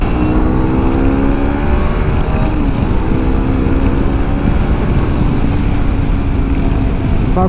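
Hero Xpulse 210 motorcycle engine running while riding, a loud continuous droning rumble with steady harmonic tones and wind noise throughout, with no talk.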